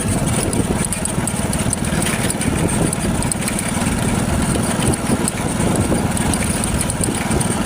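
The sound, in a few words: motorcycle engine on a road bike journey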